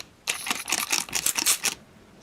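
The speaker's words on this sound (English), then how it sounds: "These spray mist bottles." A handheld spray mist bottle wets drum-making materials for a traditional hand drum in a workshop, giving a run of quick, crisp hissing spritzes in close succession over about a second and a half, with no talking.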